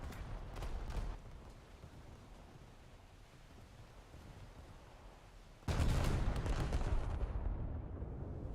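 Naval gunfire booms from behind in a World of Warships battle: a distant rumbling salvo, then a louder, sustained blast of heavy cannon noise partway through, with no talking.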